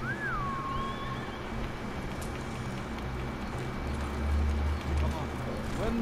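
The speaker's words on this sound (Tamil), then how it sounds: "குதிரை" A horse in the video game Ghost of Tsushima whinnies once near the start with a rising-falling cry, then hooves clip-clop in a low thudding rhythm toward the end over steady ambient game sound.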